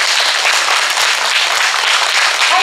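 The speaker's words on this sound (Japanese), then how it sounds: "じゃあ実際に、手拍子をちょっとしてみてもらっていいですか。" A group clapping hands in a laughter yoga session, a dense, steady, loud patter of claps filling the whole stretch with no talking.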